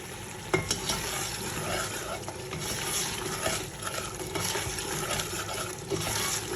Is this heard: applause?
no